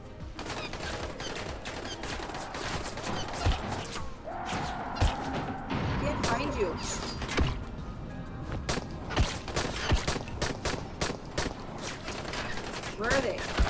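Rapid bursts of gunfire in a zombie survival video game, with sharp repeated shots, mechanical clatter and thuds coming in uneven volleys, fairly close and loud, while a player talks over parts of the action.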